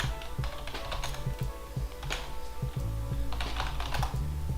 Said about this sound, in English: Here, I'll just type him in the chat.